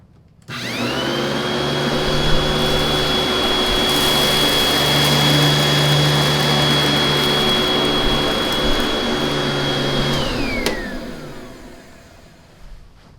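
An old Panasonic Jet-Flo upright vacuum cleaner runs for about ten seconds, its motor a loud steady roar with a high whine, picking up cereal, sand, cat litter and dog hair before it switches off and spins down.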